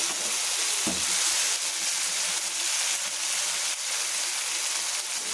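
Mashed tomatoes fry in a pan for a potato kurma, giving a steady, close hiss and sizzle with a brief soft thump of stirring near the start.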